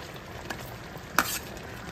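Fried onions stirred into a pot of chicken dum biryani: a soft sizzle underneath, with a sharp utensil scrape and a brief rustle of stirring near the middle.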